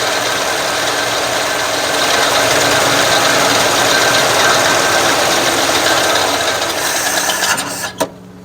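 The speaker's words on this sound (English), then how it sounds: "it's like idling at 400 RPMs when you let off the throttle" A 1957 Chevy engine idles very low, around 400 RPM, while still cold, a loud steady rasping rumble that holds for several seconds and then dips briefly near the end.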